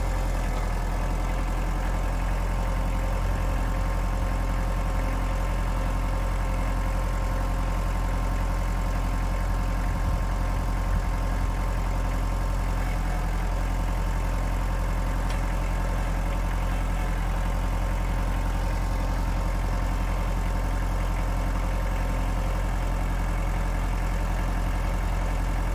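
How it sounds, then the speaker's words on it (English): A heavy tractor engine idles steadily and loudly for the whole stretch, its deep rhythmic chug unchanging, with no voices. "Thank God for this tractor."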